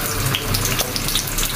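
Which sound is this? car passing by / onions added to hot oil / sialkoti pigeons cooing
onions added to hot oil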